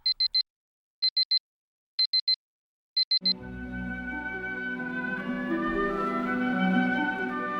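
An alarm clock beeps in quick bursts of three, repeating about once a second, before loud music swells in and takes over.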